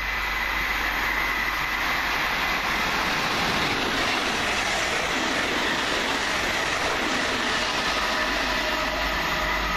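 A train rumbles steadily past at close range at Welham Green station, wheels clattering on the rails with a continuous loud roar and faint squeal.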